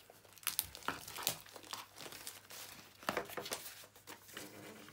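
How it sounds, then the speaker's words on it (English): Plastic packaging of Apple AirPods being cut open with scissors, quiet close crinkling and crackling with irregular snips and rustles over several seconds, no talk. "Use these scissors to slice open the packaging."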